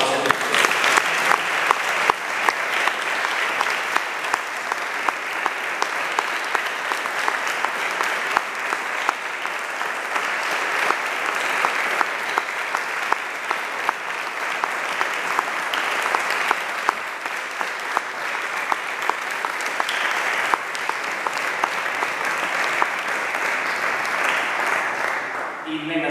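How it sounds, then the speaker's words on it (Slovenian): Sustained, loud applause from a concert audience in Brezovica after a dance and choir performance, a dense even wash of clapping lasting the whole stretch with a few sharper claps on top. "Tako da, en aplavz vsem."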